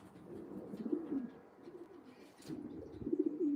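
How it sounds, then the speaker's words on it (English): A racing pigeon being handled while it is basketed for a race gives soft, low coos in two short bursts, close by and quiet, with a brief rustle between them. "It's a nice looking pigeon."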